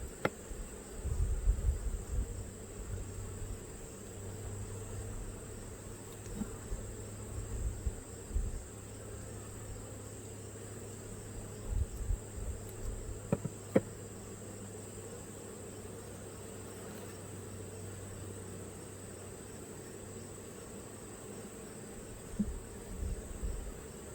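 Italian honey bees inside an open Langstroth hive, a faint, steady buzzing hum throughout, with occasional light knocks and handling noises from the hive frames.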